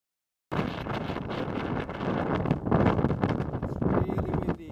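Strong gusting wind of over 30 mph at Point Lookout State Park, roaring and buffeting the microphone in loud, continuous surges after a brief silent start.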